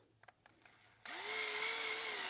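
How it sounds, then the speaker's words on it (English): A power drill spins up and bores out a leftover chunk in a DIY workshop project after a few small clicks, then runs steadily with a sustained whine. "So just kind of drill it from both sides."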